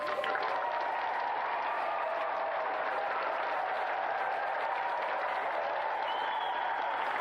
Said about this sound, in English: Another round of applause for our 2 brilliant competitors tonight, Peter Deitch and Henry Coleman Jr.